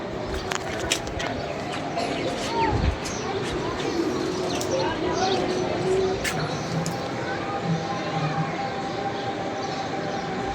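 Pigeons in a racing or flying pigeon setting coo in low, steady phrases beneath ongoing talk, over a constant rumbling background.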